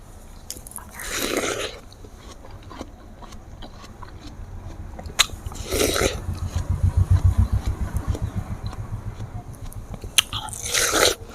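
Watermelon being bitten and chewed close to the microphone, with three crisp, juicy bites spaced several seconds apart and wet, rhythmic chewing between them.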